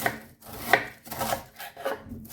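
A knife chops cabbage finely on a board for home fermenting, giving a steady run of crisp, close cuts with short pauses between bursts and no talking.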